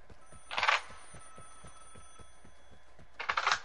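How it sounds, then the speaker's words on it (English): A phone rings in the video game Vigor, two short bursts of bright electronic ringing about three seconds apart, fairly close, with quiet rhythmic background thumps between them and no talk. "Answer the phone."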